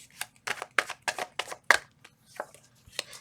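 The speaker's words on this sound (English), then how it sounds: "Two more shuffles." Tarot cards are shuffled with a series of quick crisp riffling bursts, irregularly spaced, close and fairly quiet, with no talking.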